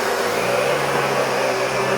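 A Miele Triflex HX2 cordless vacuum cleaner runs on a suction setting, a loud steady motor whine with an airy rush, close and constant throughout.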